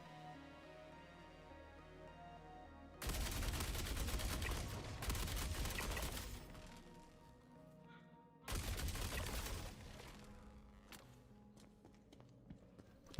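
Turret guns fire in Star Citizen in two sustained bursts of rapid gunfire, a few seconds each, loud and dense, with quieter ambient game sound in the gaps between them.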